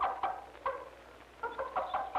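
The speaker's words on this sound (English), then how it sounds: "the excited clucking of this mother hen, as she calls her chicks" A mother hen clucks excitedly to call her chicks, giving short clustered bursts of clucks with brief pauses between, close and clear over a quiet background.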